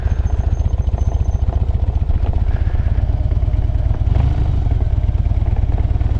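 Motorcycle engine at slow speed in the friction zone with no added throttle during a tight circle, a steady, close, rhythmic low thump with light clatter and no talking.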